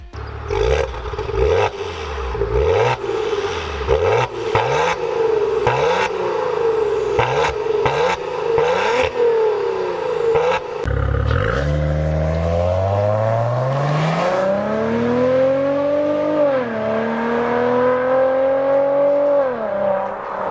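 A Maserati Ghibli engine revs hard and loud, with repeated sharp throttle blips in quick succession followed by a sustained, rising and falling roar as it accelerates, the engine note sweeping up and down with no talking.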